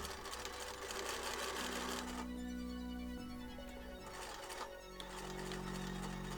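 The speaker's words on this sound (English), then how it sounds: "Stitching everything down with a real dense zigzag" A sewing machine runs a dense zigzag stitch on fabric for wrestling gear, a continuous loud, close mechanical whir that shifts pitch slightly as the speed changes.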